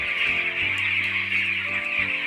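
Broiler chickens on a farm clucking in a dense, continuous chorus of many birds, with a few lower, nearer clucks standing out against the steady flock noise.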